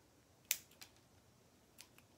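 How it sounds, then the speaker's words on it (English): Scissors trim a homemade sage bundle with a few quiet, crisp snips spaced irregularly, close by and alone in a still room. "now you want to cut off any of the extraneous bits"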